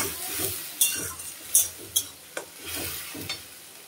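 Homemade cumin powder fries in a pan of chilli paste while shankar fish and tomato are cooked, a close sizzle broken by several distinct scraping stir strokes and metallic clinks of a spoon against the pan.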